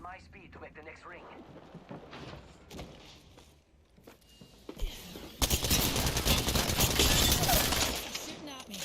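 Gunfire in the video game Apex Legends, with scattered shots and clatter at first, then a loud sustained burst of rapid fire filling the last few seconds, with voices talking.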